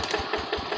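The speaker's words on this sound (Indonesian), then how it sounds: "Tampak mesin sudah dihidupkan dan proses mesin akan naik pematang" A Yanmar hand tractor engine runs outdoors while being pushed up onto a rice paddy embankment, a rapid steady chugging with regular low pulses throughout.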